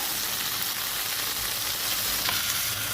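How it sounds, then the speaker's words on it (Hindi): An egg-dipped bread slice shallow-fries in ghee in a pan for French toast, giving an even, loud, unbroken sizzle close by. "इसमें ब्रेड को डिप करने के बाद अब इसको इस पैन में डाल दिया। अब इसको करेंगे फ्राई।"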